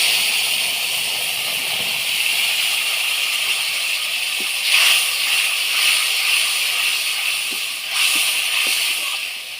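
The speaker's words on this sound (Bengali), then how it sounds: "এবার আমি বেটে রাখা মশলাগুলো দিয়ে দিই।" Ground spice paste hitting hot oil in a pan after dried red chilli has been fried, giving a continuous bright sizzling hiss that swells twice as the paste is stirred, with no speech.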